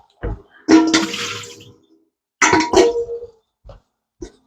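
Water drained from sliced pickles being poured out in two splashing bursts, each about a second long, close and fairly loud, followed by a couple of short knocks.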